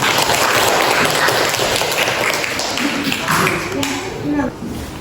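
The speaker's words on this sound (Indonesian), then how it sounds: "Tepuk tangan dulu dong buat temannya." A class applauds a classmate in a classroom, with dense, close clapping that fades gradually. Voices talk over the clapping near the end.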